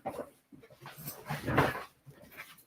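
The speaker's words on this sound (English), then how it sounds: "The dog doesn't appreciate the fine art of YouTube." A dog whimpers and whines in short, uneven bursts close by indoors, rising to a louder cry in the middle before trailing off, with no speech.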